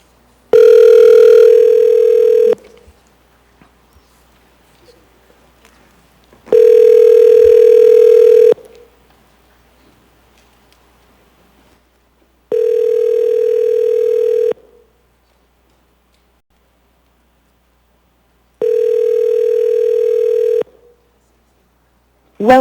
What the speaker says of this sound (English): Would you go ahead and give Mr. Imbriani a call?